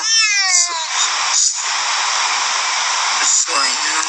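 A cat inside a carrier bag meows loudly and insistently, several drawn-out cries in a row, close and slightly muffled, with a voice talking over part of it.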